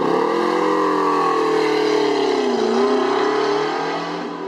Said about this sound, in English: It is stupid loud, this car. We'll have some exhaust clips as well as some flybys.